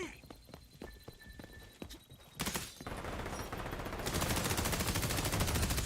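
Gunfire in the first-person shooter XDefiant: a quick string of sharp single shots, then denser rattling automatic fire and a loud continuous roar, close and intense, with a voice speaking partway through.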